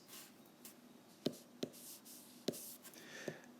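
A pen or marker writes equations on a board during a signals and systems lecture, four sharp taps and strokes spaced about a second apart, faint and close against a quiet room.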